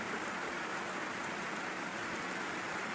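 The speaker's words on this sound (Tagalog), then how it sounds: "Sobrang lakas lang ng ulan." Heavy typhoon rain pours in a dense, constant roar, loud and unbroken, with no voices.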